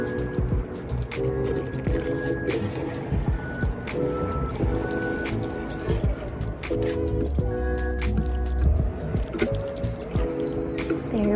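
Water drains from freshly watered potted geraniums, giving irregular close drips and wet squishing trickles. Faint background murmur and small handling clatters run throughout.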